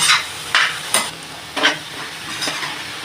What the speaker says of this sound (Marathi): सारखं हलवत राहायचं जोपर्यंत ते सुक्क होत नाही.